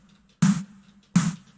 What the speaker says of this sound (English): the crispy part of the snare, the more like wiry sound.